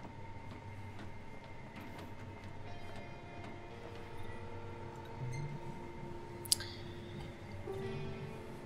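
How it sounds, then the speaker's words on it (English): A train rolls in within the video game Final Fantasy XV, a steady low mechanical rumble and rattle of rail cars that holds beneath quiet background music, with one brief sharp metallic squeal near the end. "The train is now arriving."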